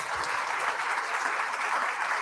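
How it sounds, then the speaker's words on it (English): An audience at a lunchtime history talk applauding the panelists, a dense, sustained round of clapping from many hands, moderately close and even from start to finish. "let's give Michael, Bebe, and Daniel another round of applause"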